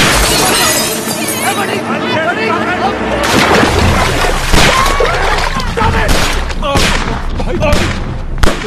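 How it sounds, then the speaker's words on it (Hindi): Bursts of gunfire crackle through a loud, busy action scene in the film Welcome 3, sharp bangs and shattering over music and shouting. "तुम्हारे चक्कर में किंग पे गोलियां जलवा दी"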